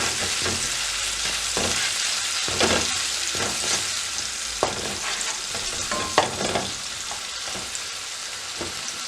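Sauce for crispy fried chicken wings fries in a pan, a dense continuous sizzle with occasional scraping and stirring knocks, close up and steady throughout.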